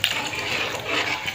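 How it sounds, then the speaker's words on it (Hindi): Flour mixed with water poured into a pot of mutton nihari, a steady liquid splashing and trickling that runs throughout at moderate loudness, with no talk. "अभी हम इसमें शामिल कर देंगे आटा जो हमने मिक्स करके रखा है पानी के अंदर"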